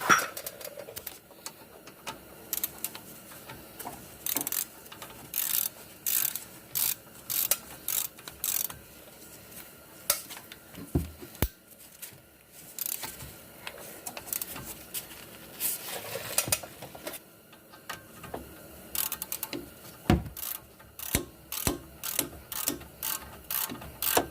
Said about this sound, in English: you can grab the 14mm socket and tighten these down